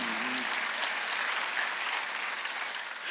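A church congregation at a Sunday worship service claps together in a steady, dense wash of applause that holds evenly throughout, with a faint voice at the very start.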